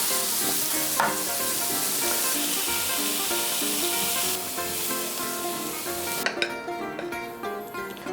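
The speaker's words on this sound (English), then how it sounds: "then we're gonna give them a sear" Scallops searing in a hot pan, a loud continuous sizzle that cuts off sharply near the end, followed by a few light clinks of utensils, no speech.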